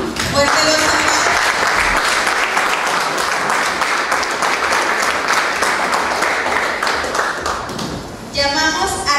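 Loud, sustained audience applause at a community event, many hands clapping densely and evenly for several seconds, with voices breaking through near the end.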